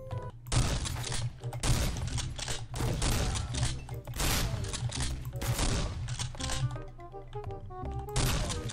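Rapid gunfire from shooting people in the video game BrainBread 2, loud and dense bursts of shots running nearly the whole time over a steady game music bed.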